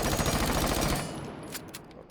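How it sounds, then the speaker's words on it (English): Rapid automatic MP5 fire with a flash hider in Rainbow Six Siege, a dense, steady burst lasting about a second, followed by a few scattered clicks and quieter game effects. "let me try flash hider out for the MP5 real quick"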